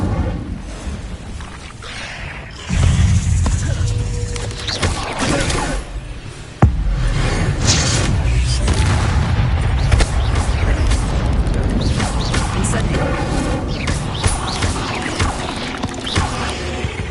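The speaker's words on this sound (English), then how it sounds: "Incendio!" The Incendio fire spell in Hogwarts Legacy bursts with a loud whooshing blast and a sharp crack. Rumbling fiery combat noise carries on continuously after it, with a second sharp impact partway through.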